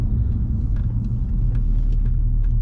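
A high-mileage Audi B7 RS4 wagon with a V8 lugs along in sixth gear at low speed, giving a continuous deep rumble from inside the cabin with no breaks.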